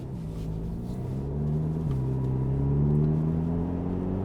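A turbocharged 2.0-litre inline-four in an Audi TT Coupe S line with S tronic and quattro hums from inside the cabin as it accelerates, with a smooth, rising drone that swells gradually and a brief dip around a gear change.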